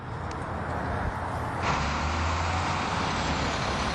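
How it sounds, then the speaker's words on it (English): Big DPW trucks loaded with sand roll out of a yard in Bridgewater ahead of a blizzard, a low rumbling engine drone that swells midway as a heavy vehicle passes close, with no talk. "Big Trucks, and lots of them, roll out of the DPW yard in Bridgewater, loaded with sand, heading for the neighborhoods."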